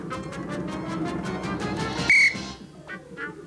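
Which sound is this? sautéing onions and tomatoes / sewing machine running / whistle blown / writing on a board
whistle blown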